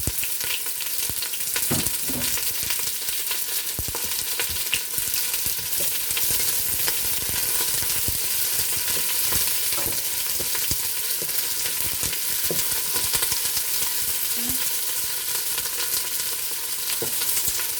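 Onions and shallot fry in a pan for vegetable bouillon, giving a steady, dense sizzle that runs throughout, with a few soft stirring scrapes and clicks rising above the hiss.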